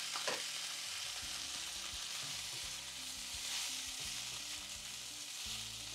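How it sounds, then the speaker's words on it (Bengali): Sizzling pan of boiled potatoes and okra as a yogurt and gram flour mixture goes in, giving a steady, fairly loud frying hiss with a low rumbling undertone and no talk. "এবারে এর মধ্যে আমরা এই দই আর বেসনের মিশ্রণটা দিয়ে দিচ্ছি।"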